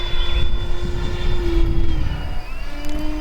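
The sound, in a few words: homemade RC jet Citation M2 flying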